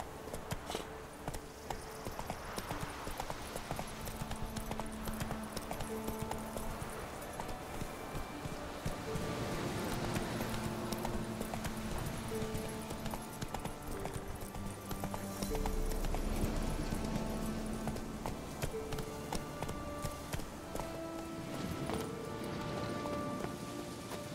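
Geralt's horse Roach gallops in The Witcher 3, a steady fast clip-clop of hooves over a busy ambient bed that grows louder and heavier partway through.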